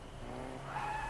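A car's tires squeal in a short skid in Fortnite, a brief rising screech over the engine's rumble.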